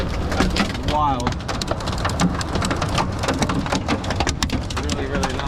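Heavy hail clatters down in a dense, loud, continuous patter during a severe hailstorm at a boat launch, with brief voices and rumbling storm noise underneath.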